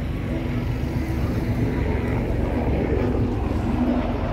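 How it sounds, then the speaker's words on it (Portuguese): A helicopter heard in the street at Ladeira Anchieta in Aparecida, a steady broad mechanical roar that holds at an even, fairly loud level throughout, with no clear blade chop standing out. "Um helicóptero lá."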